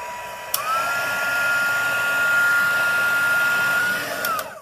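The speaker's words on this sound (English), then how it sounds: "And then we're going to use that heat gun again." A heat gun blows hot air for embossing, switching on with a click and holding a loud, steady whooshing roar with a constant high whine up close, then clicking off at the end.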